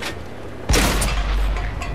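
A World of Tanks cannon shot goes off partway in as a sudden loud, deep boom, its heavy low rumble rolling on and fading slowly under faint background noise.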